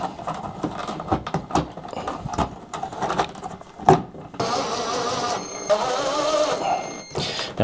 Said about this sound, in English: Now what I'm doing here is I'm tightening these screws.